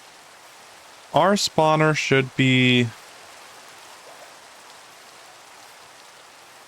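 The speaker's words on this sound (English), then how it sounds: "in the pouring rain" Steady, even rain hiss from Minecraft fills the whole stretch at moderate level, with a voice talking briefly over it near the start.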